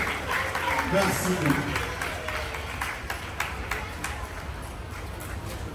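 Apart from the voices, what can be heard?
applause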